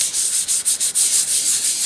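An embossing buddy pouch rubbed briskly over cardstock, giving a soft, close scratchy swishing in rapid back-and-forth strokes, alone without talk.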